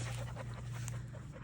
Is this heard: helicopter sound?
no